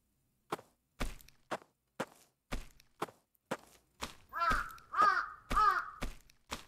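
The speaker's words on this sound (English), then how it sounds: "The crows are also creepy, but they can't help it." A few sharp knocks and thuds come first, then several loud, harsh crow caws follow one after another near the end, close and clear with no talking.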